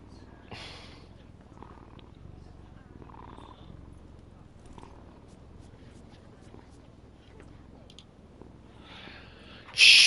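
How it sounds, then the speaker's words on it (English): A video game cat purrs steadily as it is stroked, a soft, low continuous rumble at close range, with faint voices in the background and a sharper sound at the very end. "Stroke the cat."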